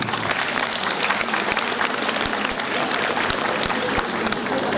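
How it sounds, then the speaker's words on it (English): A school annual day crowd applauds steadily and loudly after a karate gold medal announcement, the dense clapping running the whole time with a few sharper individual claps standing out. "Can we have a round of applause for that?"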